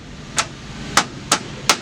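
A hammer taps a steel door frame to straighten it during installation, four sharp metallic knocks at irregular intervals, close and fairly loud over a steady low background hum.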